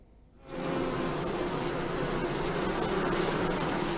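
A dense, steady buzz of many bees swarming over beehives, as used in Lithuanian bee therapy where people lie on beds above the hives. It starts abruptly after a brief quiet moment and stays loud and continuous throughout.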